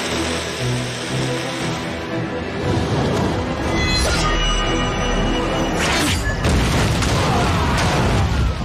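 Explosion effect from a TV wuxia drama scene where an arrow strikes a cannon: a dense soundtrack of booming blasts and crashing bursts, with several sharp loud hits in the second half.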